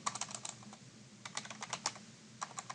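Rapid clattering keystrokes on a computer keyboard, typed in several short bursts with brief pauses between them, close and fairly quiet with no one talking.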